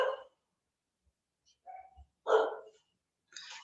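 A dog gives a few short, sharp barks in separate bursts, fairly faint and a little distant, over a quiet background in what sounds like an online class, with no one talking.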